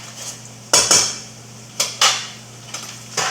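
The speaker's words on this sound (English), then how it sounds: "So stir these egg noodles again." Egg noodles being stirred in a pot with a utensil, for a cheesy beef noodle casserole: several sharp metallic clanks and scrapes against the pot sides, close and fairly loud, separated by quieter gaps over a steady hum.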